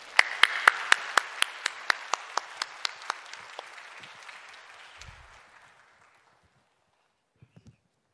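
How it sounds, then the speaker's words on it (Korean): A church congregation claps to welcome a speaker at a Sunday service. Sharp, evenly spaced claps come first, then looser applause that fades within about six seconds, followed by a few faint thumps. "우리 박수로 환영해 주시기 바랍니다"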